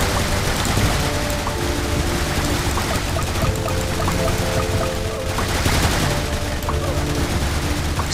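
Gunner towers firing in a tower defense video game, a dense, continuous barrage of rapid gunfire and thuds filling the mix at steady loudness, with game music and effects layered underneath.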